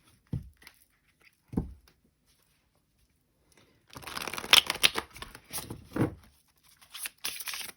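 Tarot cards being shuffled for a reading, heard as two short riffles alone, then a longer stretch of fast papery flutter and a couple of final riffles, all fairly close.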